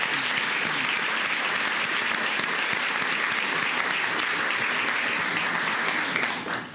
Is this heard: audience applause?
yes